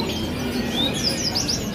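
A songbird in a bird kiosk sings a brief run of high chirps and whistled trills, close and clear over a low room murmur.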